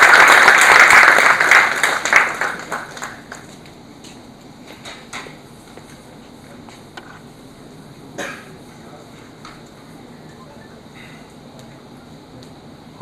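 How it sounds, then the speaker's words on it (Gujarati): An audience applauds loudly at a weaving technology seminar, the clapping dense at first and then thinning within a few seconds to scattered claps, shuffling and small room noises. "તાળીઓ પાડતા રહેજો એટલે હાથ જરા ગરમ રહેશે."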